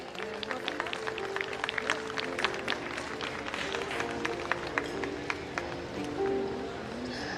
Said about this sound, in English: Can we have a big round of applause for the team?